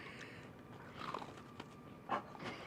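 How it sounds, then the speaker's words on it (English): Two crisp bites into a Milano Irish cream cookie, one just after the first second and a sharper one near the end, close and quiet with faint chewing between. "I heard your crunch."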